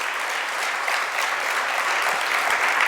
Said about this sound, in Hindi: आप उनके पुण्य में तालियां जरूर बजा दीजिए